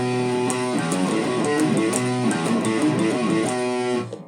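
Electric guitar playing the final riff before the outro of a song. A dense, driving run of fast notes plays loud and unbroken for about four seconds, then cuts off abruptly.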